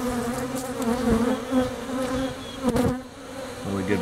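Honey bees buzz steadily and loudly at close range as a box of bees is moved to start a new hive, a dense continuous hum with no talking.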